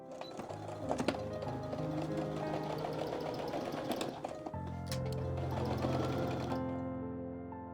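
A sewing machine stitching the armhole seam of a maxi dress, a steady rapid mechanical whir with clicks, briefly pausing then resuming at a slightly different pace before stopping.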